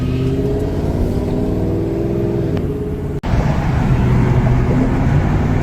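A badly misfiring Police Interceptor car engine runs rough and uneven from inside the car, with a steady low drone, a brief dropout partway through, then a heavier rumble.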